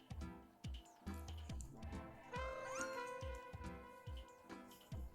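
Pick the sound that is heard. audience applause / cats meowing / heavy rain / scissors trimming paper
cats meowing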